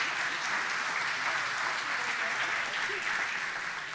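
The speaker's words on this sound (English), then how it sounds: "Give him a round of applause." An audience at a church service breaks into steady, even applause that holds for the whole stretch at moderate loudness, with no voices standing out.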